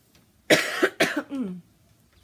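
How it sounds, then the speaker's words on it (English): Two or three close, harsh coughs from a person with flu in quick succession with a short throat-clearing rasp after, in an otherwise quiet room. "Excuse my coughing and voice and everything."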